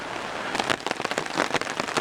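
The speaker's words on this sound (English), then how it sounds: "Yes, it's the sound of rain" Rain patters on tents at a Cub Scout camp, with a dense, irregular drumming of drops that grows heavier midway, close and fairly loud with no voices.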